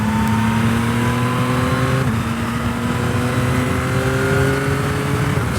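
A 2023 Yamaha Tracer 9 motorcycle engine revs and climbs steadily in pitch, drops briefly, then accelerates again, loud, close and continuous with no voices.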